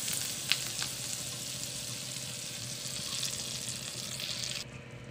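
Pieces of butter melting in a kadai over a low flame while making homemade ghee, a soft, even sizzle close by with a small clink near the start and the sound dropping slightly at the end.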